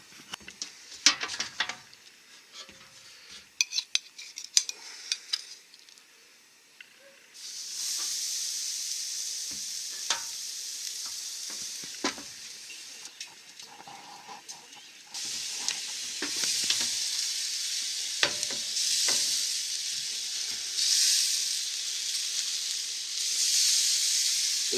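A fatty butt steak sizzles on a restored vintage barbecue grill, starting with scattered crackles and pops that build into a steady, bright hiss, then grow louder and fuller partway through, with occasional sharp spits.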